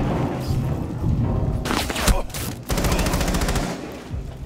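Bursts of automatic gunfire ring out during a Rainbow Six Siege hostage team deathmatch on Hereford Base, rapid rattling volleys with a couple of heavier booms and brief gaps between strings of shots.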